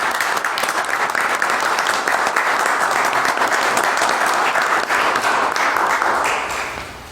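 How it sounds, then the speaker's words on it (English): A meeting audience applauds a retiring employee, a dense, steady round of clapping that fills the room at full strength and fades slightly at the end. "So, a round of applause,"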